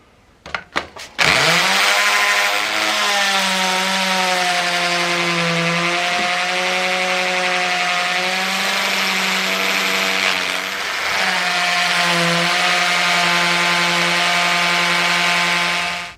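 A power drill bores into a car's diesel particulate filter: a couple of sharp taps, then a loud, steady whining motor drone that runs continuously for over fourteen seconds with slight dips in pitch, close up and without talk.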